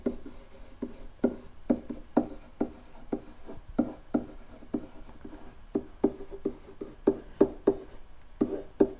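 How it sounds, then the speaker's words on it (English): A pen or marker writes on a board during a geometry lesson on arc length and sector area, producing quick, steady strokes in a rhythmic run of short scratches. No one speaks. "I'm just going to write that again."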